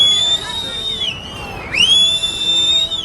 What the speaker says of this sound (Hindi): तब वादियों में सीटी यंत्र का शोर गूंजा